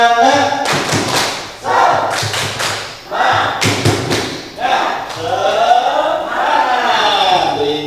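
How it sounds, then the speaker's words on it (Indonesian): Children performing the Indonesian 'tepuk semangat' rhythmic clapping chant in a class led by a teacher, loud patterned claps in bursts mixed with chanted voices. "mari kita coba tepuk semangat ya"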